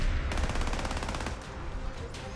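Rapid video game gunfire crackles in a dense automatic burst, loud and continuous, then breaks into a few scattered shots with no talking.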